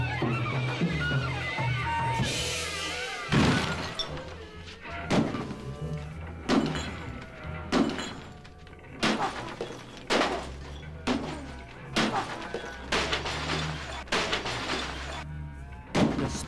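Objects are smashed with a baseball bat: a series of heavy thuds and cracks with bursts of breaking glass, irregularly spaced and fairly close, over a low rumbling background.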